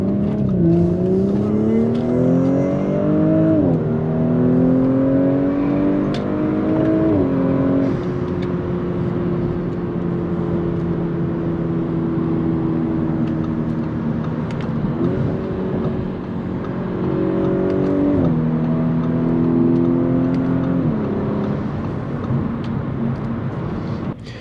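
A 2022 Audi S4 with traction control off pulls away from a stoplight and accelerates hard onto a highway, its engine loud and close, climbing through several gear changes with brief dips between rising pulls.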